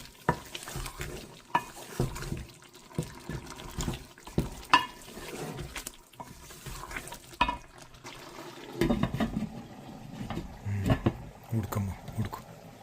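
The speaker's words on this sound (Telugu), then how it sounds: "మళ్ళీ ఇది మంచిగా కలుపుకొని కొంచెం జాగ్రత్తగా కలపాలి" Chicken liver curry is stirred in a pan, with irregular scraping and clacking strokes over a soft sizzle; a voice talks intermittently throughout.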